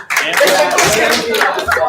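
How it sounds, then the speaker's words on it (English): Classroom students clapping for a classmate after a demonstration, a short burst of close, loud clapping mixed with voices, lasting just under two seconds. "Will you all give Sam a round of applause?"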